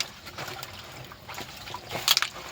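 Water trickles and splashes into a barrel on a farm where calotropis leaves and cow urine are being steeped. It is a faint, uneven pour with a few sharper splashy bursts near the end and no talk.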